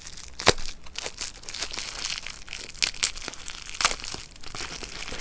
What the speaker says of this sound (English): Pixie by Petra in this nice little bubble wrap here